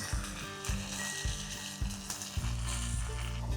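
A smash burger topped with Swiss cheese sizzles on a hot griddle while a bun toasts beside it. There is a steady close frying hiss, broken by periodic scraping clicks, with no talking.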